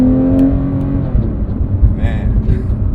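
A Porsche 911 GT3's engine revs hard under acceleration from inside the car, a loud, close, rising mechanical roar with a whirring edge that surges and then settles.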